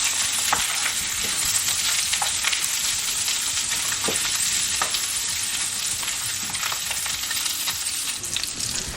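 Pork sausage links fry in a pan with a loud, continuous close sizzle and crackle, dotted with sharp pops and small clinks throughout, and no voices.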